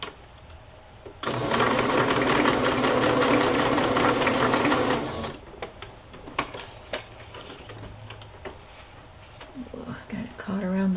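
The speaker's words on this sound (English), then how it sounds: "I'm going to sew this down." Sewing machine stitching down sheer vintage embroidered trim on a recipe-themed craft page, one sustained close whir lasting about four seconds, then scattered clicks and handling sounds with faint speech.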